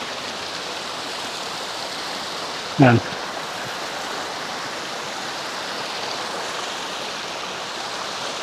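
Spring water running steadily over stones piled to dam it beneath Bancod bridge in Indang, Cavite, a constant broadband rush, with one brief word spoken near the start.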